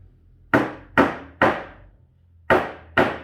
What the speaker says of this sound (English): Now I'm just going to nail a couple of nails behind